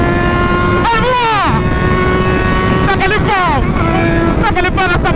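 A small motorbike engine revs in a street setting, with several rising and falling whines that sweep up and down in pitch in quick bursts, heard close and loud over steady wind and road noise.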